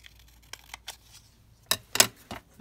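Scissors cutting the edge of a paper card for a card-making project, a handful of short, crisp snips close by, with the last few louder and quicker.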